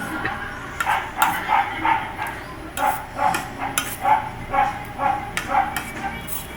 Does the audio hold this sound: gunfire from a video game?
no